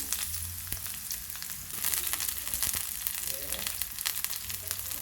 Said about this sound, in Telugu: ఆయిల్ బాగా వేడెక్కింది కదండి ఇప్పుడు ఉల్లిపాయ ముక్కలు వేసుకోవాలి